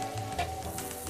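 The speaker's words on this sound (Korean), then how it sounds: "노릇노릇 튀기는 거야." Crumbled tofu frying in hot oil, a dense continuous sizzle heard up close for a brief moment.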